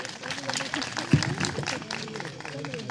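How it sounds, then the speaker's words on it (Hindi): Audience applause at a Ramlila awards show in Himachal, a dense clapping wash running the whole stretch with voices and a brief thump near the middle. "जोरदार ताली इनके लिए"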